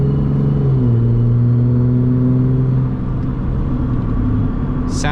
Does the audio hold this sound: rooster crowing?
no